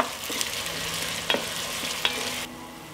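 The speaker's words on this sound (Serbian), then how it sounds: "Dodat ću i beli luk i sve ću propržiti dok luk ne omekša" Chopped onion and garlic fry in hot oil in a pot with a steady close sizzle, broken by a few sharp clinks of a spoon stirring against the pot. The sizzle quietens abruptly near the end.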